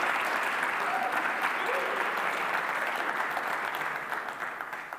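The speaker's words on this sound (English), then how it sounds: "Give a big round of applause to all of the 2021 Enterprise category finalists." A large audience at a technology awards ceremony applauds the 2021 Enterprise category finalists, a steady, dense wash of clapping that holds for several seconds before tapering off toward the end.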